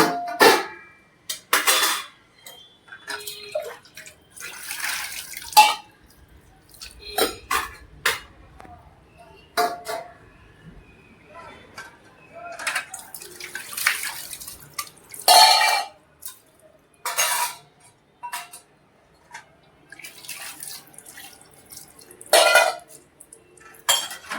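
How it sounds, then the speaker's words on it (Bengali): Brass and copper utensils are rinsed with water, giving irregular clinks, knocks and splashes of metal pots and plates, with drips and pauses between bursts and a voice talking at times. "সব ধুয়ে নিচ্ছি করছে জল দিয়ে ধুয়ে রেখে দিচ্ছি"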